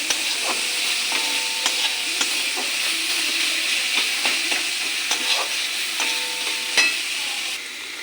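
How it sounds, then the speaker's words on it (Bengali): Boiled garlic being stirred into a vegetable filling in a pan, with a steady sizzle and hiss under repeated scraping strokes of a spatula, close and fairly loud, no voices. "রসুনটাও পুরনের সঙ্গে মিশে নেই"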